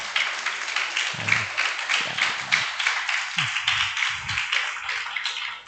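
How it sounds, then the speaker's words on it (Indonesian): Students at an Islamic boarding school clap together in a dense, sustained round of applause, loud and steady for several seconds, with a few low voices and shuffles underneath. "Ya, tepuk tangan dulu."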